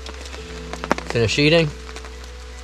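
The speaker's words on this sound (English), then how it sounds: "Looks like it'll be raining all night" Rain falls steadily on a campsite in northern Algonquin Park, a soft constant patter that runs under a man's brief speech.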